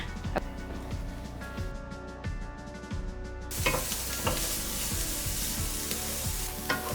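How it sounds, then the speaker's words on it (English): Onions and garlic lightly coated in oil cook over a medium flame in a pan, a soft sizzle with occasional stirring knocks that grows brighter and hissier partway through, alone without speech. "So now what we did is just kind of coated the onions and garlic ever so lightly, and I'm gonna let that sit over a medium flame."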